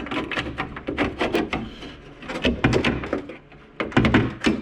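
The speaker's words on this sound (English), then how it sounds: "And we're going to slide the bar out of the door." A window guide track bar being slid and wiggled out of a car door, giving a string of close knocks, scrapes and hollow thunks in uneven bursts with brief pauses.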